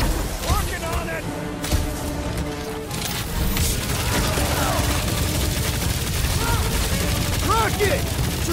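Gunfire and explosive battle sounds in the Guardians of the Galaxy video game, a dense, continuous barrage of shots and blasts under frequent character dialogue and music.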